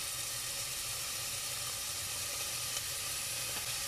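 Onion and garlic sizzle steadily in a hot pan, a continuous close frying hiss with soft crackle and no voices.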